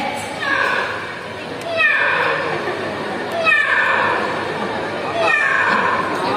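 An Amazon parrot imitates a cat, giving four drawn-out, downward-sliding meows spaced roughly evenly over a steady background murmur at a bird park.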